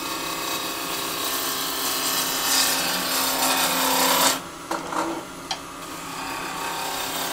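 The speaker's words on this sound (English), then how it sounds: "I use the back of the spindle roughing gouge, and if it bounces it's not round" A spindle roughing gouge's back rubs against spinning wood on a lathe, a continuous rattling, ratchet-like chatter for about four seconds, then a few brief scrapes and quieter lathe hum.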